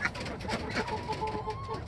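Soft, faint clucking from a hen near a nest box blends with a few muffled squeaks and rustles, with someone speaking quietly.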